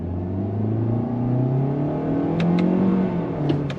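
A 2025 Toyota Corolla Hatchback XSE accelerates under throttle with simulated paddle-shifted gears, producing a steady engine drone and whir that rises in pitch. A few faint clicks from the paddle shifts sound near the end.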